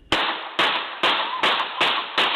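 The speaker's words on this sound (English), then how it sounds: "you can hear the piercing sounds of gunfire" Six evenly spaced sharp gunshots about half a second apart, each a loud crack with a decaying tail, heard alone as from a surveillance recording.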